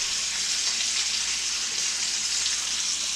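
Trout fries in a hot pan, producing a steady, dense sizzle and crackle that holds evenly throughout, close and fairly loud with no voices over it.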